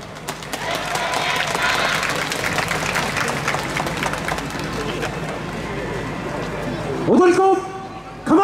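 Applause from an outdoor festival crowd greeting a yosakoi dance team, steady clapping at moderate distance, fading gradually before a voice calls out near the end.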